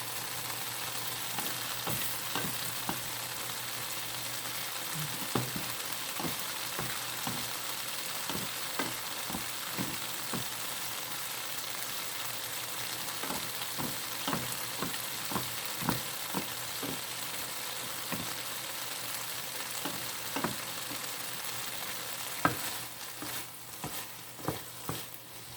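Shishito peppers and garlic stir-fry in a pan, a steady soft sizzle with frequent scraping taps of a utensil stirring throughout, fairly quiet and close, with no talk.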